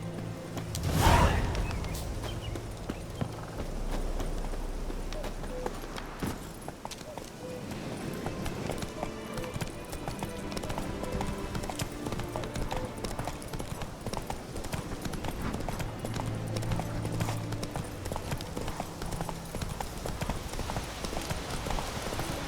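A horse's hooves clip-clop steadily at a trot in The Witcher 3, a continuous rhythmic clatter close up, with a brief whoosh at the start and voices speaking briefly over it.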